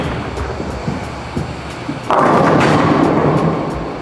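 A bowling ball, a DV8 Wicked Collision, is thrown on a lane with a fairly short oil pattern. A quiet low roll runs for about two seconds, then a loud broad crash of pins comes and rings on, with nobody speaking.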